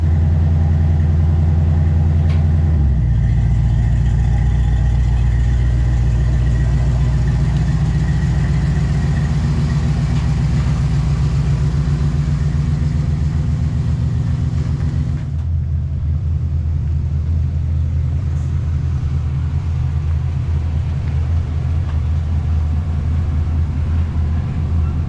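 A daily-driver car engine runs steadily and loudly at close range, a deep continuous rumble with a shift in pitch partway through as it moves in, no voices.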